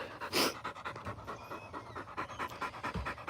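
A dog pants hard and rhythmically up close after a frisbee session, quick breathy huffs repeating steadily with a louder burst near the start.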